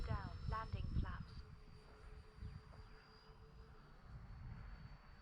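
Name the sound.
E-flite A-10 RC model jet flying at full speed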